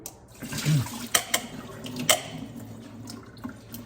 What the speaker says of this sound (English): rinse my red lentils